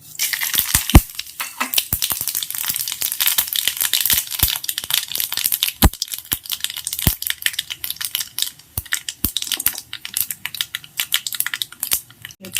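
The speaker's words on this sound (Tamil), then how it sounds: "கடுகு நல்லா பொரியணும்." Mustard seeds pop and splutter in hot oil in a kadai, a dense run of sharp, irregular crackles over a steady sizzling hiss, close and fairly loud.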